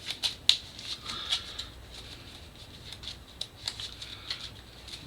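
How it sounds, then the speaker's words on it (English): A discard pile of game cards being shuffled close by: quick papery riffles and soft slaps in a loose, uneven rhythm, no voices. "I have to shuffle this discard pile"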